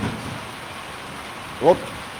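Heavy rain during a storm in Dhemaji, Assam, a steady loud hiss of downpour with a brief louder burst near the end.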